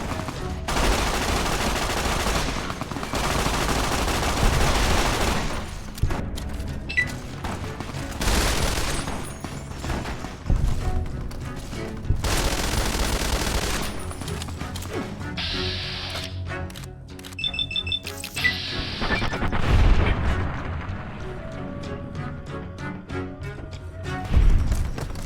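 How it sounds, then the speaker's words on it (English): Rapid bursts of gunfire and loud explosive blasts in the video game Fallout: New Vegas, dense and continuous, with brief lulls and scattered single shots toward the end. "Oh, where did I hear gunshots?"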